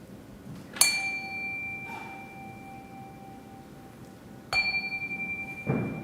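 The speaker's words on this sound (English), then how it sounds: "calm our hearts with the ringing of our chime" A chime is struck twice at the opening of a Sunday service, each clear ringing tone sustaining and slowly fading, with a quiet room in between and a soft knock at the end.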